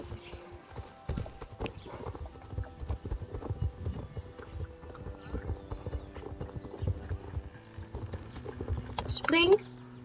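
Hooves clip-clop steadily through a horse-riding video game, a busy rhythmic patter running for most of the stretch with a brief whinny near the end, while a player talks over it.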